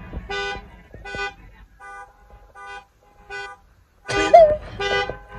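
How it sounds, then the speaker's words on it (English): Car alarms sound in a parking lot outside a barbecue restaurant: repeated horn-like honks come in regular bursts, then a louder, denser blast near the end. "all these alarms is going off now"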